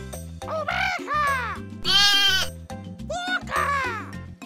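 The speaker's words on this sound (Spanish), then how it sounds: "¡Oveja!" Sheep bleat repeatedly in loud, wavering cries over a bouncy children's music backing, several calls in quick succession close to the listener.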